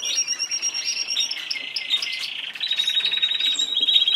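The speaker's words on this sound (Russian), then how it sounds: "зяблик на кухне летает" Chaffinch chirping indoors in a kitchen, a close, bright run of repeated high calls and trills that continues steadily with little background noise and no talking.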